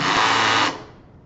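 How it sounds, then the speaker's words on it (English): A cordless drill runs on its high-speed range, a loud buzzing whir with a rattling edge that cuts off abruptly, leaving a fading mechanical tail. "But then I just get that kind of rattling effect as it tries to spin harder"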